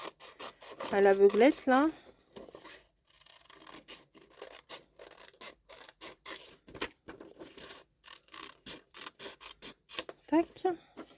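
Scissors cut out a paper window in a series of small, crisp snips and scratches at close range. A voice speaks briefly near the start and again at the end.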